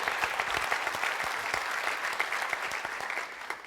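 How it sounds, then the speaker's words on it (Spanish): A church congregation applauds during a sermon on unity, a dense, steady wash of clapping from a large room, fairly distant and even, with sharper individual claps poking through before it begins to thin. "Si le va a dar ese aplauso al Señor"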